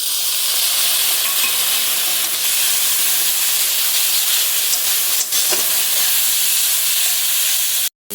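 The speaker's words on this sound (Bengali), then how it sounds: "যাতে মশলাটা ভালো ভাজা হবে।" Spice paste with turmeric and a splash of water frying in a pan for an egg, onion and potato dish, a loud continuous hissing sizzle held close and steady, cutting off abruptly at the end.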